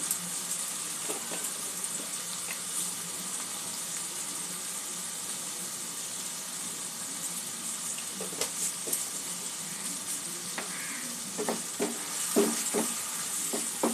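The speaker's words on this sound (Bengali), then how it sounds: "আর একটু মশলাটা কষিয়ে নেব।" Spice paste with sour yogurt fries steadily in a pan, giving a constant close sizzle with occasional scraping and stirring clatter that grows more frequent toward the end.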